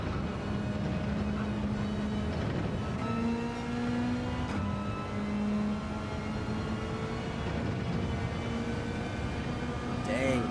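A Gran Turismo 7 GR3 race car at the Red Bull Ring holds a steady, droning engine note that climbs in pitch, drops at gear changes and climbs again, staying loud and continuous throughout.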